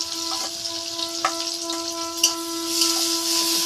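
Chopped green chillies and onion sizzle steadily in hot oil in a home kitchen pan while egg chowmein is being made, a bright continuous hiss with a few sharp crackles and pops.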